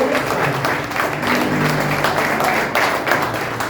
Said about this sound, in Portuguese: Se quiser aplaudir Jesus, aproveita que o meu primeiro entendeu a mensagem.